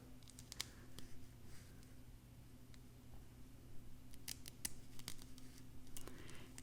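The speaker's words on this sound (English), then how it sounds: "So I'm going to just cut following that line right up to the knots." Small snips of scissors trimming a wig's lace, faint crisp clicks scattered irregularly over a low steady background hum.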